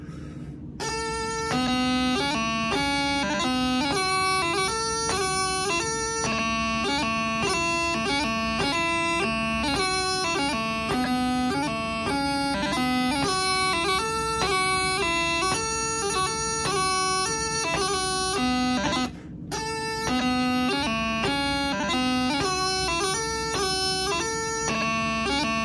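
A loud bagpipe playing the third part of the tune "Donald MacLellan of Rothesay", a steady drone beneath a bright, fast-fingered melody, played through twice with a brief pause between.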